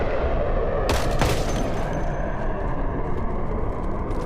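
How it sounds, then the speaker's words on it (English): Gunfire from being strafed in the video game Project Zomboid: a dense, loud barrage of shots that peaks in a sharp burst around the first second, then continues as a steady rumbling roar. "Oh, we're getting strafed."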